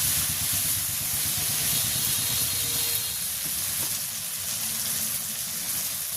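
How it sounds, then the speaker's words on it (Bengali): Potatoes fried with spices in a pan in a village kitchen, a steady loud sizzle and hiss, continuous and close, with no talking. "সব প্রকারের মশলা দিয়ে আলুটা সুন্দর করে আমি কষাই নিছি।"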